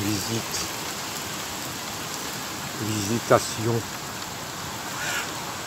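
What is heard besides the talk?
rain falling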